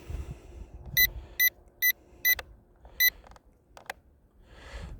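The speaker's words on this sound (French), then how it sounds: "Là, il se passe des bips." A drone remote controller gives five sharp, evenly spaced electronic beeps, followed by a few short chirps and clicks against quiet background noise.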